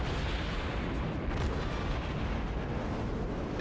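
A destroyer blowing up in the World of Warships naval game, a dense sustained rumbling blast of explosion and artillery-like booms filling the whole stretch, loud and continuous with no talk.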